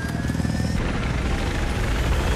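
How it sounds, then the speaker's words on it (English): A helicopter in the Battlefield 4 video game gives off a loud, steady rotor and engine roar that fills the whole stretch, close up and uninterrupted, with no voices over it. "My helicopter's so pretty."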